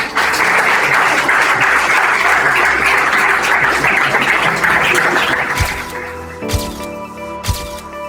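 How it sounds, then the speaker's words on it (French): A school audience at a patriotic tour event at Collège Saint Damien breaks into loud, dense applause for about six seconds before it fades, leaving a few thumps and a sustained tonal hum. "Merci beaucoup, on l'applaudit."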